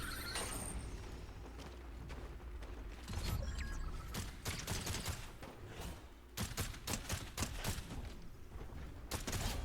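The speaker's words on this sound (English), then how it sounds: "I want to hear some gunshots go off." Rapid bursts of gunshots crackle in a game, sporadic at first and then clustered into quick volleys, with mechanical clatter and faint background noise.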